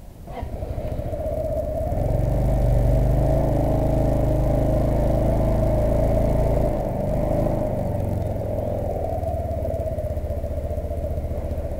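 A new scooter's engine runs steadily in Des Moines, a loud, constant low hum that swells slightly and then settles into a smooth drone.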